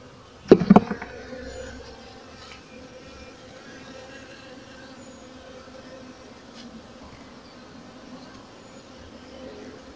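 Honey bees swarm over a hive frame where fresh comb is being drawn, making a steady low buzz throughout, close and continuous, with a brief clatter of handling near the start.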